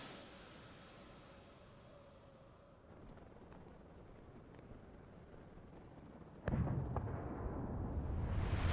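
Nuclear explosion in the video game Metal Gear Solid Delta: Snake Eater: a faint, low rumbling bed that jumps suddenly into a heavier, louder roar near the end, with no voices.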